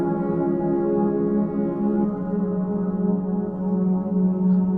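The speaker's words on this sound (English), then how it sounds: "That's the sort of ambient wash that you hear on a lot of modular videos." Modular synthesizer patch producing an ambient wash, a sustained, harmonically rich drone with soft, slowly shifting tones, steady and fairly loud with nothing else over it.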